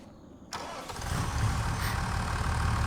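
A tractor engine in a farming video game cranks and catches, then settles into a steady, rough idle with a rising rumble.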